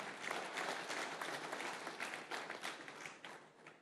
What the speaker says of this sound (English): I require another round of applause.